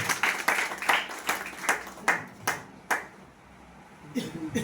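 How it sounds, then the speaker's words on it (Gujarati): An audience claps to welcome speaker Kiritbhai Patel at an event in Tharad. The claps come as a run of sharp, evenly spaced beats that stop abruptly, and then a voice begins speaking. "તો આપણે જોરદાર તાળી સાથે એમને પણ બોલાવીશું કિરણભાઈ પટેલ"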